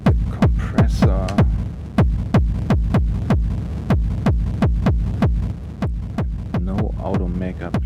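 An industrial techno kick drum run through a compressor pounds in a steady, evenly spaced loop of about sixteen loud, punchy thumps, with brief synth tones flickering between some hits.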